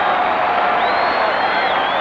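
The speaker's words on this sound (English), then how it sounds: "some of the crowd are already roaring a third goal there" A football stadium crowd at a 1990 World Cup qualifier between Colombia and Ecuador roars loudly and steadily, a dense wash of cheering that holds without a break.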